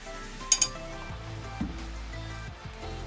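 Coconut oil with coriander powder sizzling in a pan while cooking chicken, a soft frying hiss beneath a few sharp metallic clinks and scrapes of a spoon against the pan.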